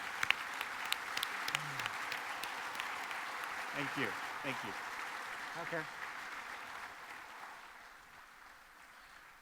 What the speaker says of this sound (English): let's give a hand of applause for our guests